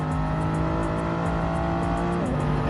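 A Toyota Supra race car in Gran Turismo 7 on a Croatian circuit holds a steady, droning engine note near and loud, with a brief shift in pitch near the end and no voices.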